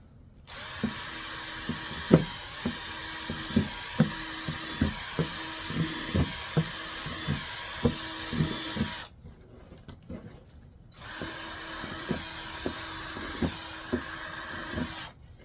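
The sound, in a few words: drilling holes in plastic bin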